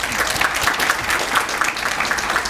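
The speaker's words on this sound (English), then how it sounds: "you should give yourselves a big round of applause" An audience applauds after a speaker's remarks at a surgeons' fashion show, a steady, fairly loud wash of many hands clapping with no voices over it.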